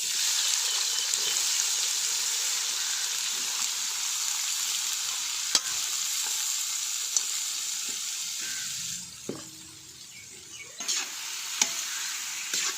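Onions with a little salt sauté in hot oil in a heated clay pot, making a steady, close sizzle broken by occasional sharp scrapes of stirring. The hiss dips briefly near the end, then returns.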